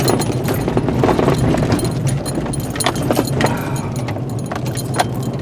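A vehicle jolts along a torn-up mine road on a cold winter morning, with steady engine and road rumble under constant rattling and jangling clatter from the bumpy surface, close and fairly loud throughout.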